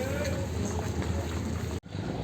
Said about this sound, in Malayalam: യാത്രക്കാർ കയറാൻ വേണ്ടിയിട്ട് ബോട്ട് കരക്കടുപ്പിക്കുകയാണ്